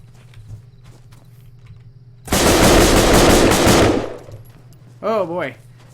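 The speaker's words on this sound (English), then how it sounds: "I hear one that sounds like he's shooting from further back." In a video game, an enemy's automatic gunfire breaks out as a dense, loud burst of nearly two seconds over quiet background, followed shortly by a brief voice.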